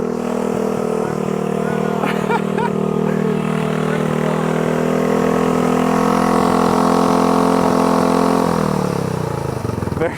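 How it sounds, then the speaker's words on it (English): A motorcycle engine drives a smoothie blender, running at a loud, steady clattering roar with small rises in revs before it winds down sharply near the end. "here we've got Scott, I believe, demonstrating their motorcycle-powered smoothie mixer"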